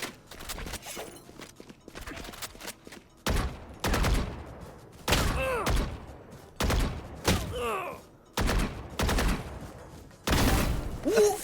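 Gunfire rings out in a shooter video game, with repeated bursts of shots separated by short gaps and other game sounds in between, loud and near throughout.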